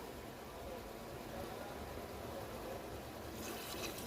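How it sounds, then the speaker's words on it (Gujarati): Steady rushing splash of about a glass of water poured into a cooking pot, continuous for a few seconds, with a brighter hiss near the end. "એક ગ્લાસ જેટલું પાણી નાખી દેશું।"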